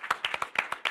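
A few scattered handclaps from an audience at a literary reading event, about seven distinct sharp claps in quick irregular succession, fairly faint.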